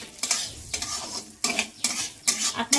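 Washed, dried Gobindobhog rice frying in ghee in a pan, close sizzling with repeated loud scraping strokes of a spatula against the metal in an irregular rhythm.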